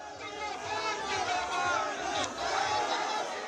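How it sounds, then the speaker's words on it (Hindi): A large crowd at a BJP road show chants slogans in support of the party, a rhythmic roar of many voices, somewhat distant and muffled, rising and falling in waves. "इस दौरान लगातार बीजेपी के समर्थन में नारे गूंजते रहे।"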